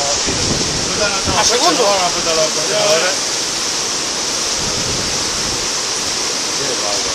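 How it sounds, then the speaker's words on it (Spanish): Floodwater rushes in a continuous loud roar through a street in Murcia, Spain during a massive flood, with a person talking over it early on. "Aquí hay mucha agua"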